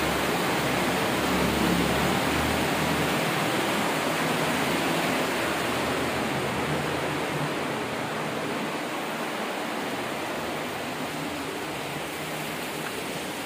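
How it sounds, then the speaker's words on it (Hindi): Water in Nishat Garden, Srinagar, pours continuously down the terraced channels toward Dal Lake, a steady, full rushing roar close by that stays level throughout with no voices. "ये पानी लगातार रहता हुआ नीचे जाके डल झील में मिलता है।"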